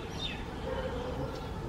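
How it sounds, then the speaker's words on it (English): Sparrows chirp in a backyard garden above a vegetable patch, a few faint, short calls rising over a steady outdoor background hum. "there are some sparrows in the"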